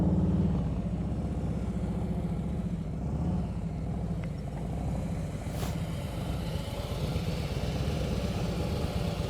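A motorcycle engine idles steadily in first gear during slow-speed riding practice, a continuous low rumble close by that holds even throughout, with no talking over it.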